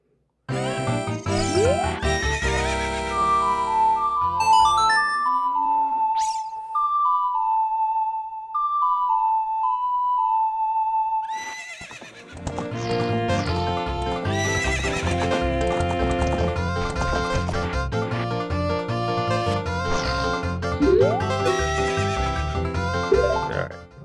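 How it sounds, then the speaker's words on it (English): Epona the horse from the Zelda: Ocarina of Time video game whinnies and neighs over clip-clop hooves and game music, with a melodic tune in a quieter middle stretch before the music swells back. "Let's get this freaking horse."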